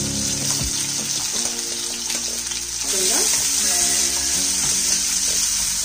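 Onion sizzles as it fries in a pan over high flame, a close, continuous crackling hiss with a few clinks and stirring scrapes.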